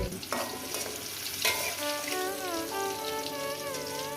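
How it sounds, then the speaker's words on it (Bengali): Pointed gourd and potato fry in a pan for a vegetarian curry, a steady sizzle broken by scraping stirs, with a faint tonal whine rising in the background. "সুন্দর করে ভাজাটা হয়নি আরও সুন্দর করে ভাজা হবে"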